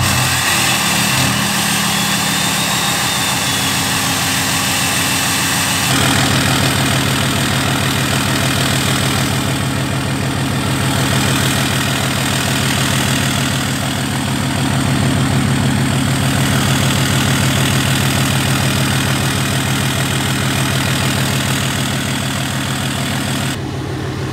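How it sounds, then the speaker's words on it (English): A Cummins diesel truck engine idles with a steady low rumble and throb, continuous and fairly loud throughout, with no voices. "Sounds like a Cummins."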